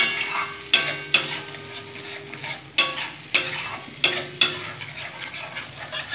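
Tomato being stirred and fried in a pan for Bengali egg curry, with a steady sizzle and several sharp utensil scrapes and knocks against the pan at irregular intervals, close and clear.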